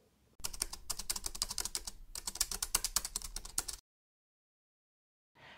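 Rapid typing on a computer keyboard, a dense, close run of crisp key clicks broken by a short pause, then stopping into silence before a brief burst of noise at the end.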